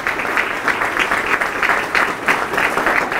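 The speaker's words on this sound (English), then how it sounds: "If you could give them a round of applause." An audience at a community meeting about a high school campus project gives a round of dense, continuous applause, close and steady throughout.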